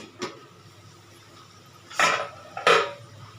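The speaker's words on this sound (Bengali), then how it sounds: "এবার ঢাকনাটা তুলে নিচ্ছি" A lid lifted off a pot of boiled vegetables, a light tap followed by two distinct metallic clanks, close and clear in a quiet kitchen.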